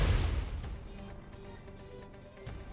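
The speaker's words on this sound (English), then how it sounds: "An explosion?" A loud explosion from the video game Xenoblade Chronicles 2, a heavy boom at the start that fades into a low rumbling, crackling tail with no talk over it.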